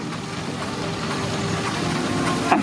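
A Foster traction engine built in 2004 rumbles steadily past at a steam rally, a continuous low mechanical drone with a faint hiss, ending in a brief sharp knock.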